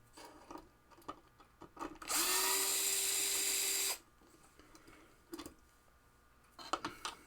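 A power drill runs continuously for about two seconds, driving long bushing-fitted screws out of the relay board of an MBA Spanish Eyes pinball machine, loud and steady against a quiet room with small handling clicks before and after.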